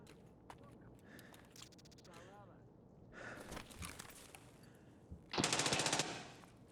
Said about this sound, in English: What gun is that?